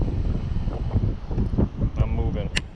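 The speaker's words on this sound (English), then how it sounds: "It's entirely too windy here." Strong wind blows across a microphone at a lake during early spring bass fishing, a loud, steady rumbling buffet with gusts and faint water sounds, continuous throughout.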